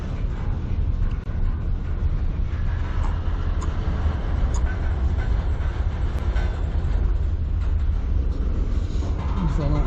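CN freight train cars roll steadily along the track at Sarnia, Ontario, giving a continuous loud rumble with occasional metallic clanks and squeaks as the manifest train moves again.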